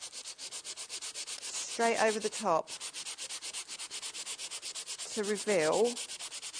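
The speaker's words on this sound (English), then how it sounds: "we literally take our sanding block and we" A sanding block rubbed over a spongy surface in quick, even back-and-forth strokes, a steady scratchy rasp that continues throughout, with brief bits of speech over it.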